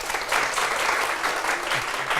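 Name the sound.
audience applause of thanks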